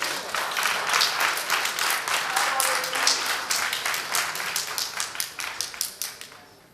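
Audience applause for a contestant at a French spelling championship, dense steady clapping from many hands that thins into scattered separate claps toward the end, with no talk over it.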